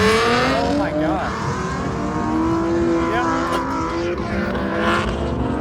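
Race cars pull out onto the track at Spirit Peaks Raceway, a loud continuous engine drone with rising and falling revs, fairly close and filling the whole stretch.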